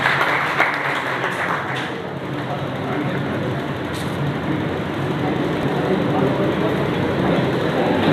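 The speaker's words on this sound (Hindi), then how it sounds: "एक बार जोरदार तालियों से आप बच्चों का हौसला बढ़ाएं।" A crowd at an education foundation event in Haryana gives loud, dense, continuous applause with a roaring wash of clapping. The sound is sustained and fairly even throughout.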